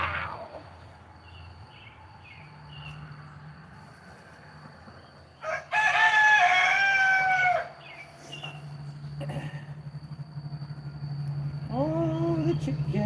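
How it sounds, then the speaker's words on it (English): Backyard chickens in an Oklahoma urban garden cluck softly, then a rooster crows loudly and nearby at mid-clip, followed by more calls and a second crow rising at the end over a low steady hum. "the chicken."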